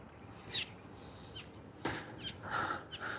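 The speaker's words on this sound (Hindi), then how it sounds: "सिर्फ पक्षियों की आवाज़ और हवा की सरसराहट है, और कुछ नहीं है।" Faint, scattered bird calls in a quiet mountain setting near a temple in Uttarakhand, with a soft airy rustle of wind beneath them and no talking.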